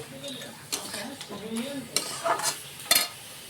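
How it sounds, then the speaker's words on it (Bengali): Crab being stir-fried with spices in a pan for a spicy Bengali crab curry, with scraping stirs, metal utensil clinks against the pot and a low sizzle, in irregular bursts. "ক্যাকড়াগুলোকে 2 থেকে 3 মিনিটের মতন আমরা কষিয়ে নেব"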